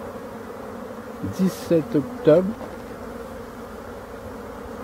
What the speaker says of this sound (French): ça ce sont que des abeilles d'hiver qui sont en train de faire un vol d'orientation